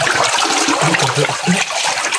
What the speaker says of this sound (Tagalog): Kalakas ng tubig no